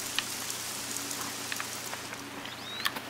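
Steady rain falls in the video game The Hunter: Call of the Wild on Xbox One, a soft continuous patter with scattered droplet ticks and a faint bird chirp near the end.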